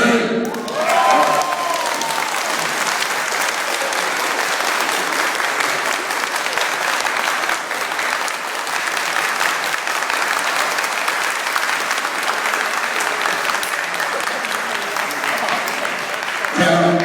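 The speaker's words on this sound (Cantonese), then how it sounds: "你聽下啲掌聲" Sustained applause fills a hall at a volunteer rally, a dense steady clatter of many hands lasting the whole stretch, with a voice briefly audible at the start.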